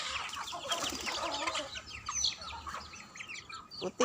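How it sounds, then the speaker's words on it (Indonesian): Chickens cluck and call in a busy farmyard mixed with pigeons, with bright chirps overlapping throughout and a louder squawk near the end. "Burung dara campur ayam."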